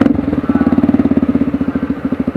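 A motorcycle engine idles close by at a safety training session, a steady low rhythmic putter of regular pulses with no revving and no talk over it.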